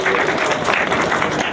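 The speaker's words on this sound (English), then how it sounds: "Another round of applause, please." Audience applause at an outdoor justice rally, a short burst of dense, continuous clapping from a crowd, loud and close for about a second and a half.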